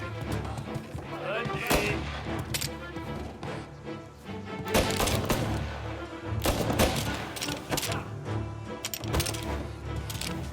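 Gunshots in Mafia Definitive Edition, a series of loud sharp cracks and bursts spaced irregularly over a steady game backdrop, with voices speaking French between the shots.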